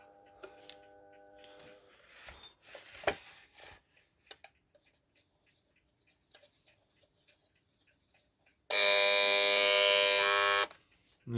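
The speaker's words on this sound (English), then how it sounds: "Set your alarm to go off at 12," APL electric alarm clock ticks and clicks quietly, then its alarm bursts into a loud, harsh, continuous buzz lasting about two seconds before stopping abruptly.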